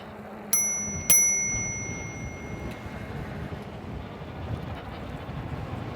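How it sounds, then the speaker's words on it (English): Two quick rings of a bicycle bell on an Engwe E26 e-bike, bright and close, about half a second apart, followed by faint wind noise and riding rumble. "I have a little bit of reach to reach this bell."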